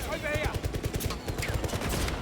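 Gunfire in the video game 007 First Light comes as rapid, repeated shots in quick bursts, with a brief voice at the start.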